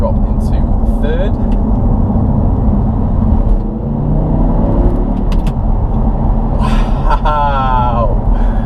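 A 2012 Audi R8 V10 with a gated manual gearbox pulling hard in third, a loud steady engine roar from inside the cabin, with people talking over it.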